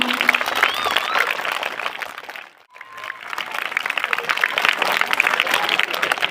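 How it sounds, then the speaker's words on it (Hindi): Audience at a school annual day applauding loudly, dense sustained clapping from a large crowd that briefly dips nearly silent at mid-point before swelling back up; a voice speaks faintly at the start. "एक बार फिर से जोरदार तालियां तो बनती हैं।"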